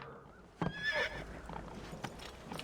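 A horse in Assassin's Creed II lets out a loud, shrill whinny, with the clatter of its hooves running close through the rest of the moment.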